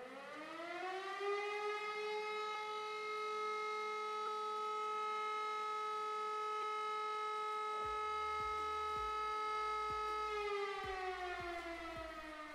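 A fire station siren in Landwirtschafts-Simulator 19 sounds a steady, loud, sustained wail for about ten seconds. Its pitch holds level, then falls away at the end.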